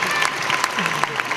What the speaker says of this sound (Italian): Allora, Anna Tramontano, un applauso.